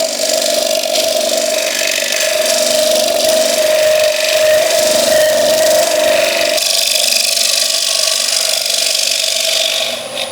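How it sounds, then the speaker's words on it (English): A round negative rake bowl scraper gently trimming the surface of a wooden bowl on a lathe, a loud continuous whirring scrape with a steady hum throughout. "we're going to use the round negative rake bowl scraper for that. And nice and gently, we can just trim over the surface"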